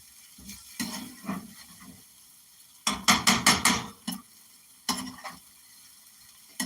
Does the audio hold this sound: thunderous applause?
no